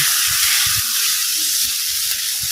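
Steady bright sizzle from a sauté frying in a pan with cooked rice, loud and continuous, with faint low clatter of stirring underneath.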